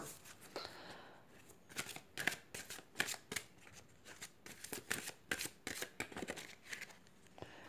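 Oracle soul lesson cards are shuffled by hand in a quick series of crisp riffling flutters, close and fairly quiet, repeating in an uneven rhythm.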